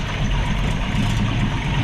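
A 1965 Ford Mustang restomod engine idling on the choke, a steady low rumble throbbing close and moderately loud without any talking.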